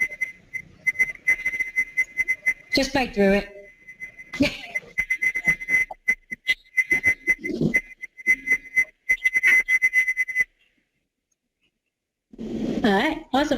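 A sustained high whistle tone sounds repeatedly in bursts, mixed with short speech and clattering noises, then stops before a final stretch of talking.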